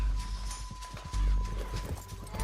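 Horse hooves clip-clop in a steady rhythm during a ride in the Western game Red Dead Redemption 2, with a brief neigh, close and fairly loud over a low rumbling game soundtrack.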